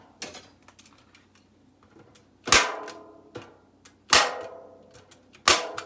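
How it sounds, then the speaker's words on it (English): A staple gun drives staples through mesh onto a wooden mink box, firing three loud, sharp snaps at steady intervals with quieter handling clicks and rustles between them. "let me put some more staples on that"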